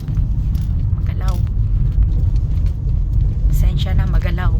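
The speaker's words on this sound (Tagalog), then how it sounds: "magdadrive muna kami ni Rani ng sasakyan" A car rolls over a rough, bumpy road, with a steady heavy rumble and loose rattling from inside the cabin, and brief voices now and then over the engine drone.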